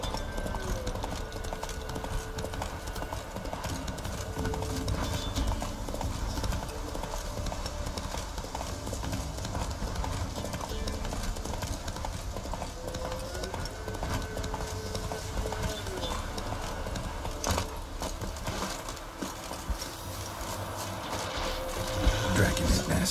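Roach the horse gallops through The Witcher 3 video game, hooves clip-clopping in a steady rapid rhythm under game music and ambience, with a voice speaking briefly.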